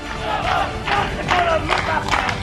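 Protest crowd of outsourced hospital workers holding a sit-in outside a hospital in Safidon, chanting slogans together in loud rhythmic bursts, several shouted phrases repeating over a noisy open-air background.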